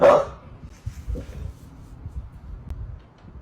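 A dog lets out one sharp, close bark at the start, then the scene drops to low rumbling room noise with faint soft thumps.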